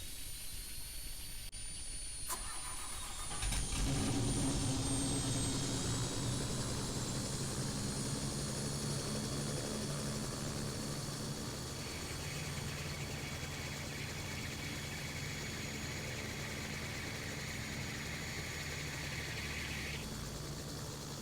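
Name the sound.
helicopter engine starting up in Helicopter Simulator video game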